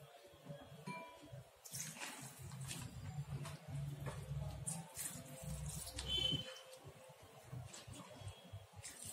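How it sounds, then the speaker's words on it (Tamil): Water is poured into a pan of Chettinad chicken curry and masala paste, giving a soft, faint, steady gush of liquid for several seconds among quiet kitchen clinks. "தேவையான அளவுக்கு தண்ணி சேர்த்துக்கலாம்."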